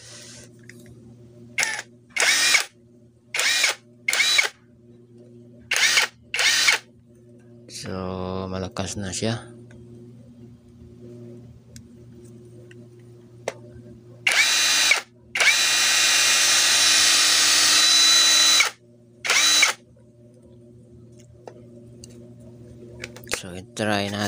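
A cordless brushless electric impact wrench fires in several short whirring bursts and one longer sustained run, loud and close, with someone speaking Filipino between the bursts.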